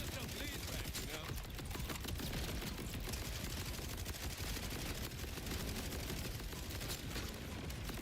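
Gunfire in the video game Borderlands 4 rattles in a dense, continuous barrage of rapid shots that stay loud and unbroken throughout.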